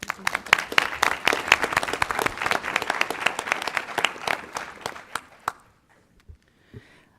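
Applause from a small audience at an Oregon Tourism Commission meeting, a steady patter of many hands lasting about five seconds before thinning to a few last scattered claps and silence.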